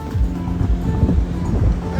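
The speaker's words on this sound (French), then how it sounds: "Il y a un vent incroyable" Strong wind gusting at the seaside, a steady broadband roar with buffeting against the microphone and surf rolling underneath, loud and continuous across the whole stretch.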